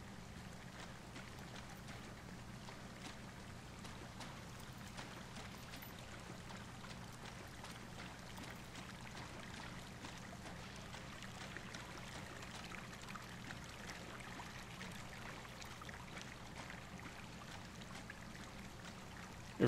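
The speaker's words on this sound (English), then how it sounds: "This has got to be Cottonwood Creek." Creek water at Cottonwood Creek in the video game Firewatch runs with a faint, steady babble and trickle, unbroken and even throughout.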